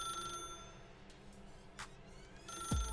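A telephone rings faintly in the video game The Stanley Parable, a repeating electronic bell tone against quiet background hum, ending in a short low thump.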